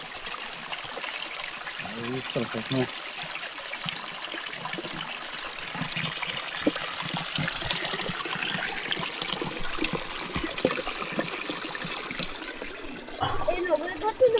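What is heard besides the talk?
water flowing from a mountain spring fountain on Vitosha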